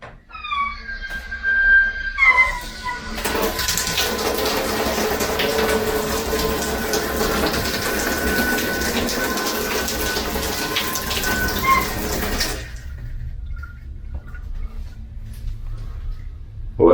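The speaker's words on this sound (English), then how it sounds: "when you turn on the pipes, okay, the cold water, it sounds like World War III is starting" Old shower pipes running cold water give a loud, steady rushing hiss with a faint whine that lasts over ten seconds, then cut off abruptly into near quiet.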